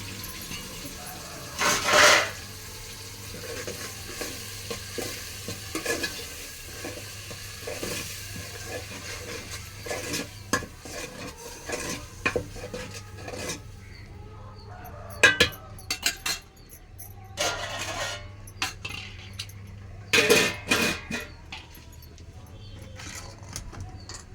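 A spoon scrapes and clinks in a pan as paste is stirred into a big fish curry. Sharp metallic knocks come at irregular moments over a faint sizzle.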